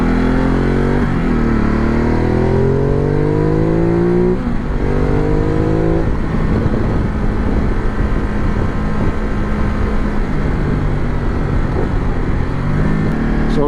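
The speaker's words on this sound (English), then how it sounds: "Ducati sounds like a Ferrari. Really specific sound." A Ducati motorcycle engine revs loudly and close up on a Gran Canaria mountain road, with rising pitch sweeps as it accelerates through the gears, then a steady rough roar.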